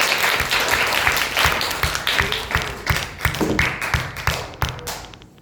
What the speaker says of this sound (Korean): 박수 먼저 칠까요, 우리?